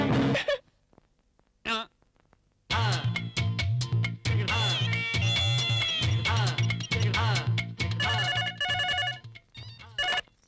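A phone ringtone plays as a repeating electronic melody at close range, loud and rhythmic, after a few brief sounds and pauses at the start.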